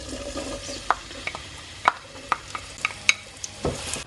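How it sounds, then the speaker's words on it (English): A finely chopped medium onion dropped into warm oil for a potato and cauliflower curry: a steady, close sizzle broken by sharp scraping clicks of stirring. "Once the oil is warm, you can add in 1 medium-sized finely chopped onion."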